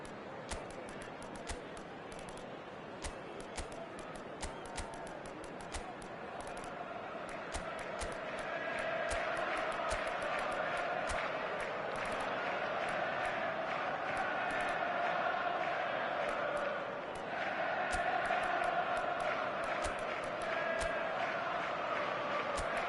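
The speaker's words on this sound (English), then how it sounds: "it certainly got the crowd going" A stadium crowd in a football video game roars, a broad wash of cheering that swells louder partway through and stays sustained, with faint sharp clicks scattered across the opening stretch.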